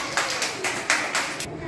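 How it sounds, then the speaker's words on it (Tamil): Children clap their hands together in a classroom shape-recognition activity, a quick run of about six bursts spread evenly over a moment, fairly close and clear with no talk. "வெரி குட், எல்லாம் கைத்தட்டுங்க"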